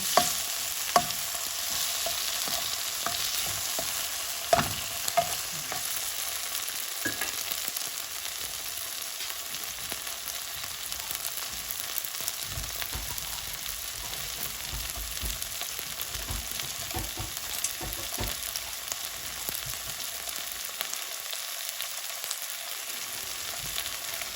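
Eggplant stir-frying in a pan gives a steady, continuous sizzle with occasional scrapes and clicks of a utensil. It carries at moderate loudness throughout and no one speaks.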